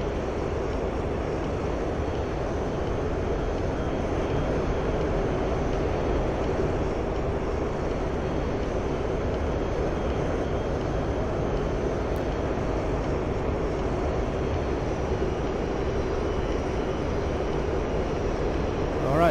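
The jet engine of a Mirage F-1 in a flight simulator hums as a steady, even roar for about nineteen seconds, with little change in level as the throttle comes up.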